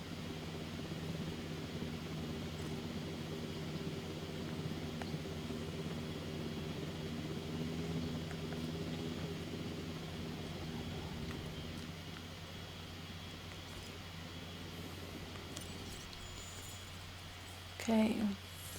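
A helicopter flies in the Jurassic World Evolution video game as a steady, droning rotor and engine hum, moderately loud and continuous throughout, with a brief sharper burst near the end.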